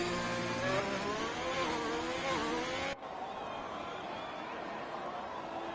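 An Alfa Romeo race car pulls onto the track with a rising engine note that climbs through several gears, then cuts off abruptly and leaves a faint wash of ambient noise.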